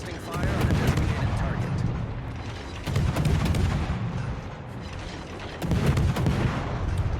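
Artillery strike in a combat video game: a rolling series of booming, crackling blasts that comes in three surges and fills the whole stretch, loud and dense, with voices talking over it.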